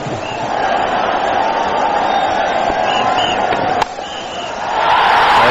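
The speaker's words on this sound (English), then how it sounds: "crowd is loving it." Cricket stadium crowd during a match between Bangladesh and Sri Lanka, a loud, steady roar of cheering that holds throughout, with one sharp knock partway through and the noise swelling again near the end.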